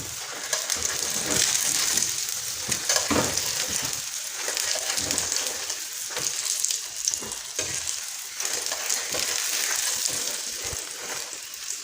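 Sarson saag paratha fries in ghee on a pan with a steady, close, continuous sizzle and crackle, with occasional soft stirring scrapes and no talking.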